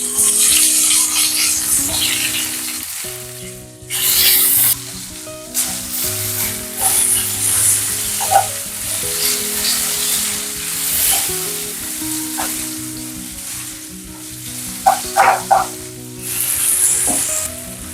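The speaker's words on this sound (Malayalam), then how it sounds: "ഇനി ഇതിലേക്ക് നമുക്ക് പച്ചമുളകും സവോളയും എല്ലാം ചേർത്ത് കൊടുക്കാം." Green chillies and onions sizzle in hot oil with curry leaves while being stirred, a steady loud frying hiss with occasional scraping and clinks of the spoon against the pan.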